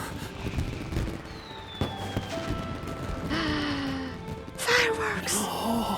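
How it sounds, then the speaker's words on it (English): Fireworks in the video game Genshin Impact: whistling rises followed by crackling pops and bursts, moderately loud and mixed with game sounds and a voice. "Fireworks!"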